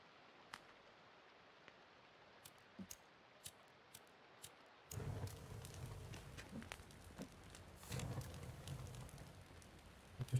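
Rain in the video game The Forest, first a quiet stretch with sparse sharp ticks, then a sudden rush of steady rain hiss and patter that swells again later, with no talk.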